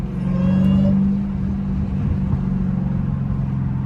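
A Dodge Hellcat fitted with a drag pack drives along steadily, its engine giving a loud, sustained low drone with a smooth supercharger whine layered on top. The sound stays fairly constant with slight swells and no talking.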